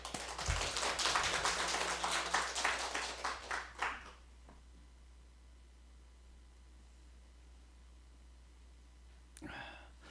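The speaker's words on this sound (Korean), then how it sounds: "나오실 때 박수로 환영하겠습니다" A church congregation at a Korean Sunday worship service claps warmly to welcome a guest pastor, a dense burst of applause lasting about four seconds before fading into a quiet hall.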